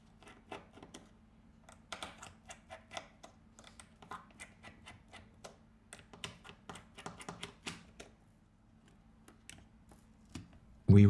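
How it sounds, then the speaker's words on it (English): Small screws being removed from the rear housing of a Samsung A3 phone during a teardown: a run of light, close clicks and ticks with quiet low hum beneath, ending in a brief louder bump. "We remove the screws."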